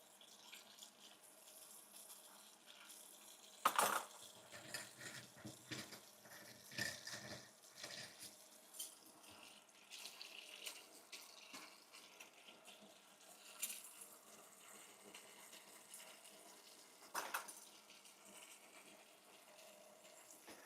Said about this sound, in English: the sounds of the dishes being washed